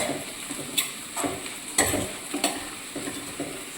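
Onions sautéing in a pan for a curry, a steady soft sizzle broken by several scraping stirs of a spoon against the pan, close and alone with no talk.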